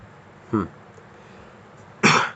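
Two short, close coughs about a second and a half apart, the second harsher and louder, against a quiet background.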